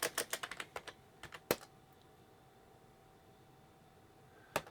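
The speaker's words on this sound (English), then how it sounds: "I typed the password wrong." Keys clatter on a computer keyboard as a password is typed: a quick burst of close, crisp clicks, then a long quiet pause and one final keystroke.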